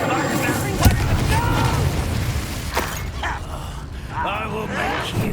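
A fire spell is cast in the Hogwarts Legacy video game, a burst of booming, crackling magic over a busy, rumbling soundscape while a voice speaks throughout, with further sharp impacts later.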